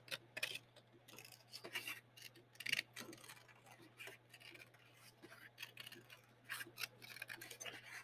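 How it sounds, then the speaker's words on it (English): Quiet, crisp snipping of scissors cutting paper, a steady run of short closely spaced snips. "cut off all that extra paper so that it's just easier to hold"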